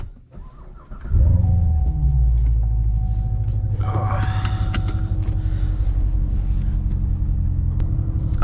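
A Corvette C7 Z51 starts and pulls away, a sudden deep engine rumble kicking in after a quiet moment and holding steady and close as it drives off.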